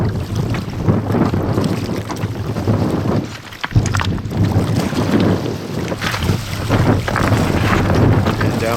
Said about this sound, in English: Down here in the water, a little bit windy today.